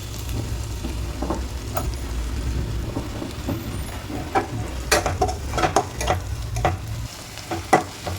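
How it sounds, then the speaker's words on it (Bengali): Grated garlic and onion fry in oil with a continuous close sizzle, joined later by repeated sharp scrapes and clicks of stirring, and no one talks. "পেঁয়াজ আর রসুনটাকে হালকা ফ্রাই করে নিলাম।"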